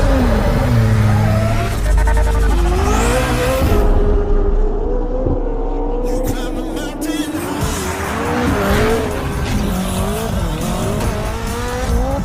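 A Koenigsegg Jesko hypercar, its engine rated at 1,281 horsepower on gasoline and paired with a 9-speed multi-clutch transmission, accelerates hard in a loud, continuous rising and falling roar, with squealing tires and shifting pitch throughout.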